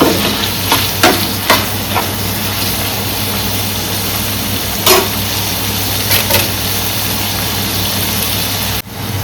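Shrimp fry in a pan over medium heat, giving a steady, close sizzle with a few sharp clinks and a low background hum, and no talking.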